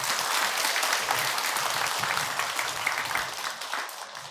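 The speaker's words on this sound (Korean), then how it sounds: "박수 한번 주시기 바랍니다." Applause from the audience at a talk in a Buddhist temple, a dense wash of many hands clapping at a steady level that holds throughout, easing slightly toward the end.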